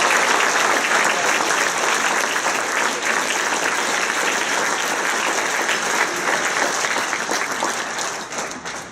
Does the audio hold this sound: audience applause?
yes